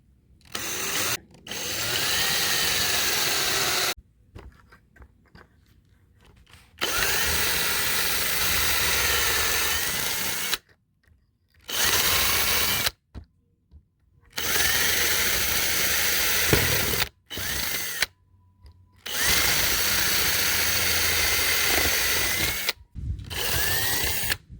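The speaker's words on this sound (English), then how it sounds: "we're going to go around and drill holes around this edge" A power drill bores a ring of holes around the edge of a piece for a homemade chainsaw mill, running in long loud bursts separated by short silent pauses as each hole is drilled.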